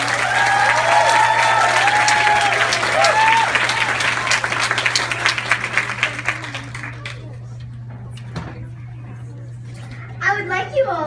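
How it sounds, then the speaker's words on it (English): Festival crowd at a Women in Tech event gives eight-year-old Samaira Mehta a loud round of applause with whistles, swelling at first and then tapering off into a quieter room as a voice briefly speaks near the end. "Please give a warm round of applause to Samaira Mehta."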